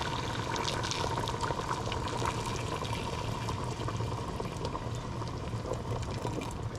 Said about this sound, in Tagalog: lalagyan na natin siya ng tubig. Mainit ito guys na tubig.